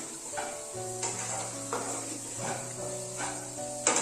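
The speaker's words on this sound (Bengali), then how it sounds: "রান্নাটাকে সুন্দর করে ভাজছি আস্তে আস্তে" Potato filling sizzles steadily in a hot pan, a continuous close hiss with faint scraping and clinks of stirring, no voices.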